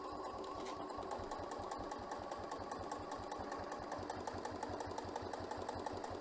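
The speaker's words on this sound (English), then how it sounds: "I'm going to back stitch." A sewing machine runs steadily as it back stitches along a zipper pouch, a continuous close whirring hum with a fast rhythmic needle chatter and no break for the whole stretch.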